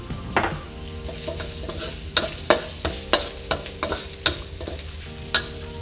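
Shiitake mushrooms stir-fried over medium heat with coriander root, garlic and pepper, a steady sizzle broken by irregular scraping knocks of a spatula against the pan, close up and with no voices.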